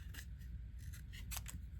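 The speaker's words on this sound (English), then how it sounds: "So let's cut it out." Scissors snip through pattern paper to cut out a small label, a few quick close crisp cuts in a quiet room.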